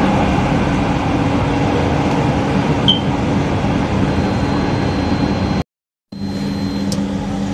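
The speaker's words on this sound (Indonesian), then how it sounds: "LRT yang saya naiki tiba di stasiun Cawang" Rumble from inside a Jabodebek LRT light rail car rolling into Cawang station, a steady close hum with a brief tone in the middle, then a sudden dropout before the hum resumes under a faint whine.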